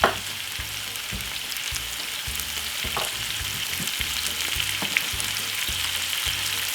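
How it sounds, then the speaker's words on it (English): Spinach stir-frying in olive oil with pepper, a steady broad sizzle running throughout with a few scraping stir strokes and small pops, close and fairly loud, no voices. "just pop a little bit of olive oil and get the spinach"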